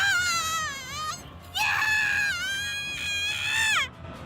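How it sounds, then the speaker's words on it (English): A nurse screaming in the visual novel game Chaos;Head Noah, two long wavering high-pitched female wails separated by a brief gap, loud and close, voiced without other talk. "The nurse screamed and fell to the ground"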